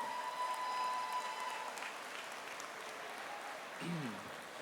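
Audience applause at a school convocation fills the space with a steady, moderately distant wash of clapping, with a voice briefly audible near the end.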